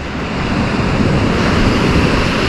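Steady roar of Black Sea surf washing onto a beach at Lazarevskoye on an overcast day, continuous and fairly loud, with wind buffeting the microphone and no voices.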